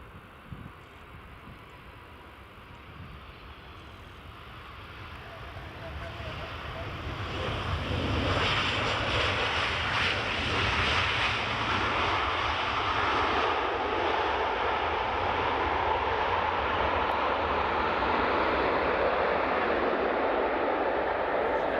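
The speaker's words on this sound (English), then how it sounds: "Here comes, I should say, another Ryanair Max." Ryanair Boeing 737 MAX airliner at Edinburgh Airport, its jet roar swelling from a distant rumble to a loud, sustained broadband wash that holds steady to the end, with faint voices in the background.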